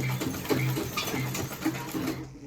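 Sewing machine stitching down a small piece of a flared gown sleeve, a steady close mechanical whirr with short bursts and pauses, with no voices.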